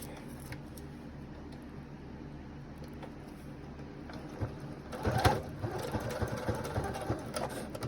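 A sewing machine stitching a fabric clothing cover, first a low steady motor hum, then a louder burst of rapid mechanical needle clatter partway through that continues to the end, close by and with no speech.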